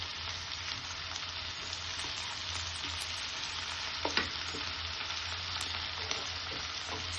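Chopped tomato and curry leaves sizzle steadily in hot oil in a pan, a continuous broadband frying hiss with a few faint stirring clicks near the middle and no voices.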